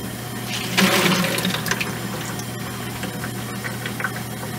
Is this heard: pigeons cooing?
no